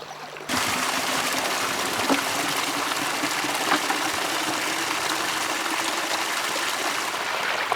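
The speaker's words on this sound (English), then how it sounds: "When the weather is warm, the drinking water is taken from the brook." A mountain brook near a monastery in Golok, Qinghai, rushes in a steady broadband wash of flowing water that starts abruptly and continues unbroken and fairly loud, with no voices.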